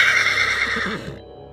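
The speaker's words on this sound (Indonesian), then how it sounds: "Suara kuda meringkik dengan keras" A horse neighs loudly and close by, one long whinny that holds for about a second, then trails off into a lower snort-like tail before fading out.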